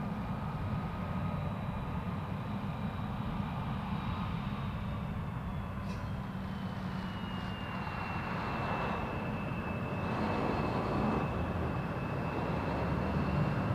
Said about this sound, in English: Jazz 696 to Boston, Embraer 175.